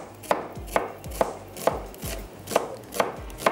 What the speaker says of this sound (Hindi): तो मैंने ये 2 अदद प्याज ले ली हैं और इनको हमने कर लिया है स्लाइस।